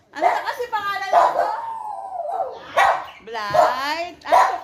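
Short dog barks and yips come from close by, mixed with whimpering sounds and a person talking over them.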